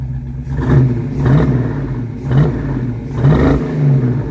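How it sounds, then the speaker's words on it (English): A Ford Mustang project car's engine revs up and settles repeatedly, four or five rising bursts of throaty mid-range roar over a droning idle, close and loud with no talk. "Rev it up, buddy."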